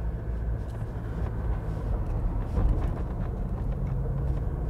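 A lifted Toyota Revo cab pickup drives along a road with a steady low rumble of engine and tires, and faint rattles and shakes from the body and suspension come through underneath.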